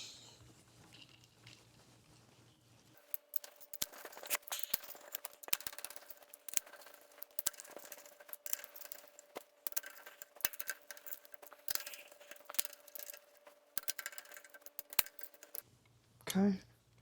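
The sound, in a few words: torque wrench tightening cylinder head bolts on engine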